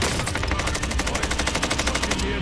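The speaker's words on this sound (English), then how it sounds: "I'm gonna shoot King Kong" Rapid automatic gunfire in Call of Duty Warzone aimed at King Kong during a Godzilla vs Kong event, a loud, steady stream of shots lasting a couple of seconds.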